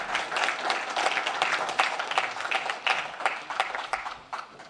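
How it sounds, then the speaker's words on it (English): A room full of people claps for themselves at a St. Patrick's event, dense continuous applause at moderate volume that thins out slightly toward the end. "A round of applause to yourselves."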